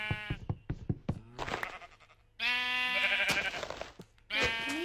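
Sheep in a video game bleat loudly several times in close succession, with a drawn-out cry in the middle and a final bleat at the end, interspersed with quick knocking thunks.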